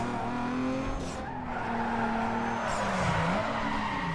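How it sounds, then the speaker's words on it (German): A car drifts with screeching tire skids in Need for Speed Underground 2, a continuous engine drone under a wavering squeal that bends in pitch as the slide goes on. "Jawohl, das war auch ein Drift."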